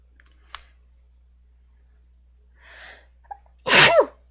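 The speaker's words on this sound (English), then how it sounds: "Okay, I have to sneeze." A single loud, close sneeze near the end, preceded by a soft sharp inhale and a few small clicks in a quiet room.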